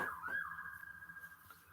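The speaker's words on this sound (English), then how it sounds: "As a police car drives by." A police car siren wails in the distance, a steady high tone that rises then holds, fairly faint and continuous as it passes.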